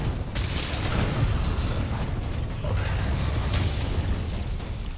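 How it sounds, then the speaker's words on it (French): Gunlance reloading in Monster Hunter World Iceborne, a dense mechanical clatter of ratcheting and clicking parts over steady low rumble, with a couple of brief sharper metallic accents along the way. "je recharge ma gun lance"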